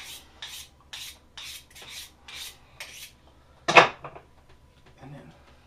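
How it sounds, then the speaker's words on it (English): A boning knife is quickly sharpened with about seven rhythmic rasping strokes, then a louder scrape and a softer final pass, close up, with brief talk mixed in. "Yeah, quick sharpen."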